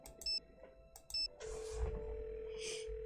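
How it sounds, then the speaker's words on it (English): Telephone ringing in a mystery video game: two short electronic ring bursts sound clearly, then a steady tone holds with a brighter chirp near the end, all without talk. "We haven't called Bess yet."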